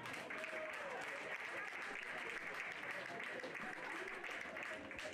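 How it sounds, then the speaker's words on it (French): Steady applause from a crowd at a pony show prize ceremony on the podium, heard faint and continuous throughout. "vous avez le droit d'applaudir sur le podium"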